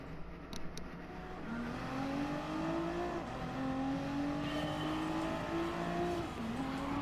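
Nissan GT-R Nismo 2017 racing at Brands Hatch in Gran Turismo Sport, its engine droning steadily and climbing in pitch through successive gear changes, close and continuous without talk.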